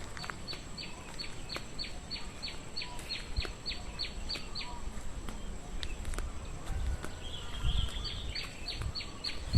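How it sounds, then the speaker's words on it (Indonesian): Birds sing at Nawangan reservoir dam in Giriwoyo, a steady run of repeated high chirps in close rhythm carrying through the whole stretch over a soft outdoor background hiss. "suara burung sungguh luar biasa, begitu merdu terdengar di tempat ini"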